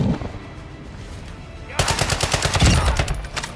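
Rapid automatic gunfire in the video game Call of Duty DMZ, starting with a sudden burst of closely spaced shots that keeps rattling loudly over background game noise.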